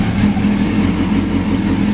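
A 2002 Yamaha FZ1000 motorcycle engine idles close by with a steady, loud, low rumble and slight pulsing, fitted with an aftermarket muffler.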